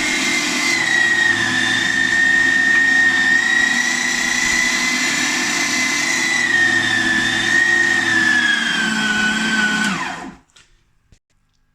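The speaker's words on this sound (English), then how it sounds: "I'm going to add the seasoning to this, and then I'm going to run it through the mincer" A meat mincer grinds seasoned sausage meat with a steady, loud motor whine that holds for about ten seconds and then cuts off abruptly into silence.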